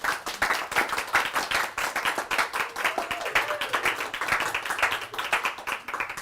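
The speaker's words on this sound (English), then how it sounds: "Thank you for the applause." Steady applause from a live audience after a talk on health, relationships and financial success, dense rapid handclaps filling the room at an even level throughout with no speech over it.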